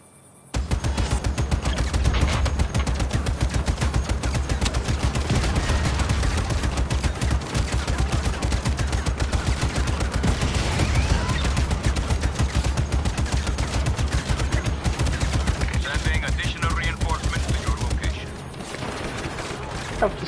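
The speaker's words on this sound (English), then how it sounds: "Let's give the cannon a go," Cannon blasts and gunfire from the video game Just Cause 3 fill the scene, one dense continuous barrage of loud shots and booms that stops abruptly near the end, with speech mixed in.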